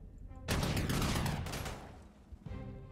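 Artillery fire in the strategy game Panzer Corps 2 during a Belgium scenario, a loud booming barrage that swells after a quiet start, rumbles for about two seconds, then trails off into a softer second burst.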